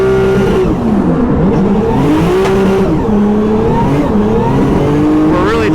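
A car on Nitto tires run at about 6 PSI keeps driving and revving steadily throughout, with a continuous engine drone that shifts in pitch as it accelerates. Faint tire noise sits under the engine, and speech is possible in the background.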